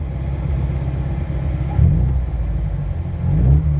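A 1979 Alfa Romeo Alfetta 2.0 engine idling with a low, steady rumble, then two short blips of throttle that swell the drone briefly, heard close up without talking.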